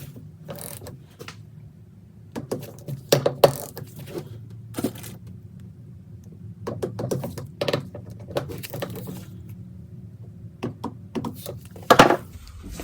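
A torque wrench ratchets in bursts while tightening bolts on a Rock-Link long arm upgrade for a Jeep JT/JL, close metallic clicking runs with pauses between, ending in a sharper click.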